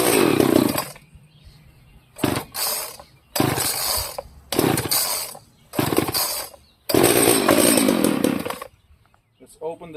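A vintage Homelite 240 chainsaw, a yard sale find, fires in a series of roaring bursts that each run briefly before cutting out, with short pauses between attempts and a final longer run, close and loud.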